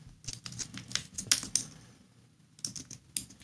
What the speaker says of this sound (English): I heard you typing, so I paused.